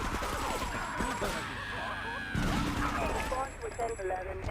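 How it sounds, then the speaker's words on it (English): Gunfire in the video game GTA III, several shots and bursts crackling in quick succession amid game sound effects, with a voice talking over parts of it. "Why are they all shooting me like that?"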